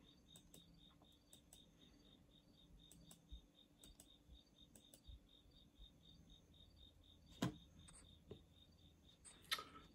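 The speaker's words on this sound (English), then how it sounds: "if you're hearing the sounds of crickets, those are crickets" Crickets chirp steadily through a quiet night at 1:30 a.m., a faint, evenly pulsing trill that repeats across the whole stretch with a few soft clicks and taps nearby.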